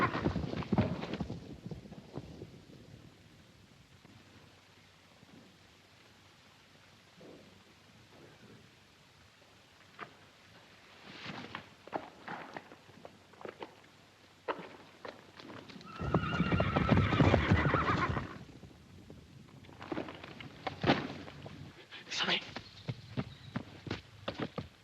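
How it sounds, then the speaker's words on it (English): Horses whinny and hooves clatter in a stampede on open ground, with loud bursts of neighing and hoofbeats that swell and fade over steady background noise. "Damn them horses. Stampeded again."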